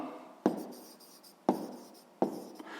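Pen writing numbers by hand on paper during a sixth-grade maths exercise: three sharp taps of the pen striking the page, each followed by soft scratchy strokes, close and quiet with no voice.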